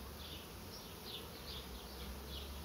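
A honey bee swarm hanging in a public spot beside an ice cream parlour fills the air with a dense, steady buzzing, close and continuous, with no voices.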